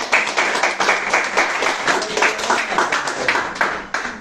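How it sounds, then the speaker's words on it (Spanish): A church congregation claps loudly and energetically, many hands making a busy, pulsing stream of claps that carries on without pause. "Dale fuerte palmas a Cristo."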